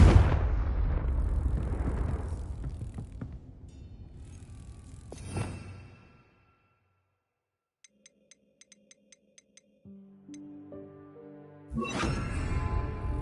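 A Confringo blasting spell goes off in Hogwarts Legacy, a loud rumbling burst that decays over several seconds with a sharp crack near the middle, followed by quiet, a few soft ticks and magical tonal chimes before another roaring blast.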